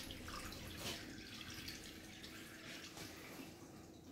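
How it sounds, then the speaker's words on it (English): A mop sloshes and is rinsed in the dirty-water section of a triple-bucket mopping trolley in a hospital, giving a soft, continuous wash of swirling, dripping water at low volume. "we are going to put the mop into the dirty water section"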